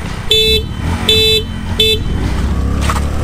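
Three short car horn honks, evenly spaced, sound over a low rumble of a running vehicle nearby.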